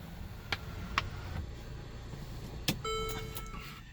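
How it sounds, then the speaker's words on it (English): Power windows move on a 2014 Mercedes-Benz CLA 250 with a weak battery, giving a brief motor whir after a few faint clicks inside the quiet car. "so that'd be the first signs you can notice is the window speed"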